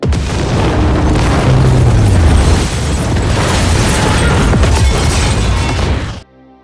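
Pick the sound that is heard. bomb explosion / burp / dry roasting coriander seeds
bomb explosion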